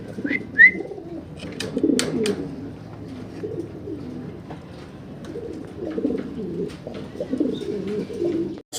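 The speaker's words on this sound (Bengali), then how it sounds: "দর্শক চমৎকার একজোড়া মোড়ানো কবুতর দেখতে পারতেছেন আপনারা" A pair of fancy pigeons coo softly and repeatedly at close range, low rolling calls layered over a quiet room, with a few sharp chirps from other birds early on.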